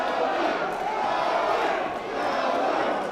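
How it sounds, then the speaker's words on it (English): A boxing-match crowd at the Paramount chants and roars steadily, a dense, moderately loud wash of many voices with no clear breaks. "The crowd here at the Paramount chanting, Joey, Joey."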